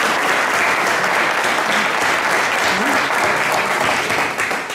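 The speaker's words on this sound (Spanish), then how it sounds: "un fuerte aplauso para Pablo, para David y para Raúl Bandido por su colaboración" Concert audience applauding at an exhibition closing, a dense, steady wash of clapping that stays loud for the whole stretch and only begins to thin at the very end.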